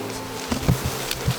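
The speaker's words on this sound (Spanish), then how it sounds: "Esto es una colmena, estas son crías" Honeybees swarm around an open beehive on a Colombian farm, giving a close, steady buzzing hum with a few soft thumps and louder passes as insects fly near.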